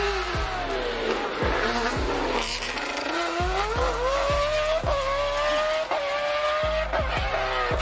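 A BMW 1 Series race car screams at around 12,000 RPM, its high engine note climbing and dropping as it passes, with loud repeated shifts and tyre noise, close and continuous.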